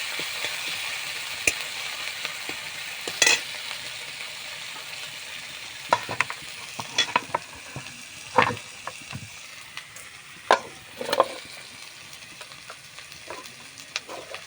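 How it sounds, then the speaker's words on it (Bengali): Onion, garlic, green chilli, mustard and nigella seeds sizzle softly in oil while a utensil stirs and scrapes the pan in irregular knocks, close and otherwise quiet. "পেঁয়াজ, রসুন, কাঁচা লঙ্কা, সর্ষে, কালো জিরে একসঙ্গে দিয়ে দিচ্ছি। ভালো করে নেড়ে দিচ্ছি।"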